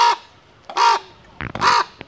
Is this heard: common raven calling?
yes